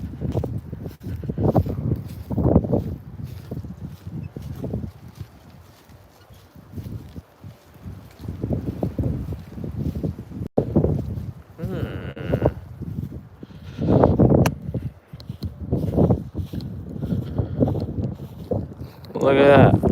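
Wind gusting across a microphone beside a backyard pond, a low buffeting rumble that swells and fades in repeated gusts, loud and close, with brief bits of background sound between.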